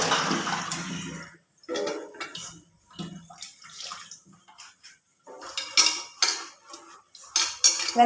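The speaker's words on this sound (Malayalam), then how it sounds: "അങ്ങനെ ഞാൻ പാത്രം ഒന്ന് കഴുകി വെച്ചോട്ടെ." Dishes being washed in a kitchen sink, with cutlery and pots clinking and clattering in irregular bursts, close and moderately loud, separated by short pauses and the patter of water.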